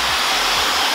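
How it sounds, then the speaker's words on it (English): A blow dryer for styling natural hair during a roller set switches on and runs as a steady, loud, close airy whoosh filling the short moment, with no talking. "I'm gonna take this end now and plug it into my blow dryer"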